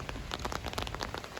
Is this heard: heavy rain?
yes